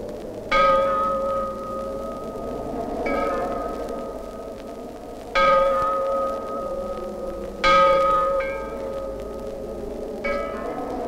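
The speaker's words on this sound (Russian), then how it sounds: "Звонят колокола." Large bells ringing slowly, each deep resonant stroke swelling and fading into the next, with long humming overtones and no voices.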